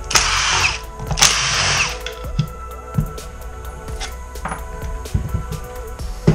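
A power drill loosens the five screws on a scooter's transmission cover: two loud whirring bursts early on, then quieter clicks and metallic handling of the parts, with no talk.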